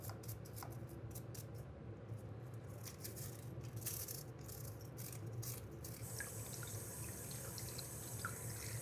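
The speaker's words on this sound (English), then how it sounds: "I gotta do a little scrubbing right around here" Aquarium pump parts are scrubbed in water with steady, faint rattling and dripping. Quick scrubbing strokes and splashes repeat close by.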